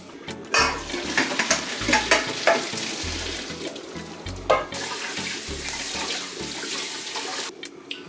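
Cooked mackerel being rinsed under a cold running tap, a steady close splash of water with irregular bursts and knocks of handling in a kitchen sink, no voices.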